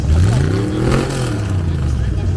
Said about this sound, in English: That's a cam-back Corvette, Joe.